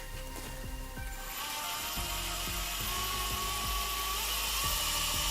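Harbor Freight drill bit spinning freely in a power drill, a steady high-pitched whine with faint rattling ticks, close and alone with no voices.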